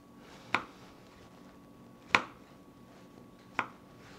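Three separate knife chops through mushrooms on a cutting board, sharp and close, spaced unevenly over a few seconds against a quiet kitchen background.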